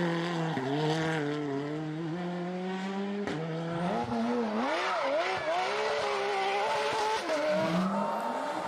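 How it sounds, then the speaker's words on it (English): A Porsche rally car races flat out, its engine screaming and rising in pitch through gear changes, with short bursts of tyre noise and crackles, loud and close throughout. "Damn, that Porsche sounds like a fucking Lambo."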